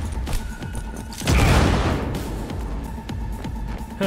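A loud boom bursts out about a third of the way in, followed by a rumbling decay amid scattered smaller pops and thuds from Cyberpunk 2077 game action.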